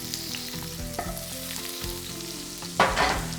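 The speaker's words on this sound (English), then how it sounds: "I'm gonna add a little bit of the oil. Just a little bit. I'm gonna add the onion right to it." Onion sizzling as it hits a little oil in a pan, a steady close frying hiss with scattered crackles and a louder burst of sizzle near the end.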